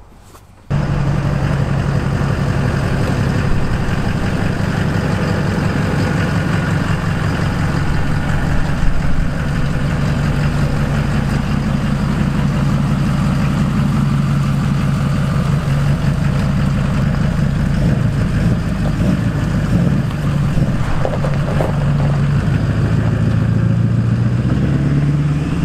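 A compound-turbo Duramax diesel truck engine runs on a test drive, giving a loud, steady low rumble that starts abruptly and continues for about twenty-five seconds with little change in pitch and no talking.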